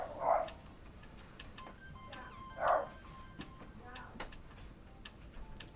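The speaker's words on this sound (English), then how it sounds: "the doggo was barking loud" A dog barks twice, short and moderately distant, a few seconds apart, over faint ticking and low room noise.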